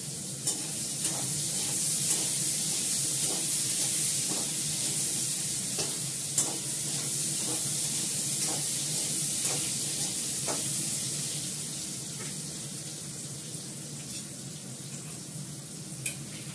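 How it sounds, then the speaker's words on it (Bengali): Potatoes frying in oil in a home kitchen, a steady close sizzle hissing throughout, broken by periodic scraping strokes of a stirring spatula, with no talk. "আলুটাকে লাল করে ভাজবো"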